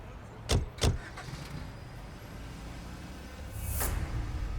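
A car rolls along with a low, steady engine rumble, two sharp thumps near the start and a rising whoosh of motion toward the end.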